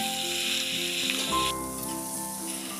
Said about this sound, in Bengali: টমেটো দিয়ে টমেটোটাকে 2 থেকে 3 বার নেড়ে চেড়ে ওতে আমি কুচিয়ে রাখা আলু দিয়ে দিব